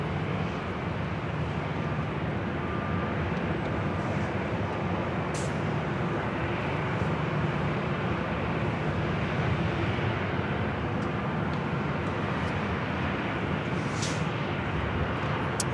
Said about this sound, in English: this is Southwest Airlines Flight 2475 heading to Denver in a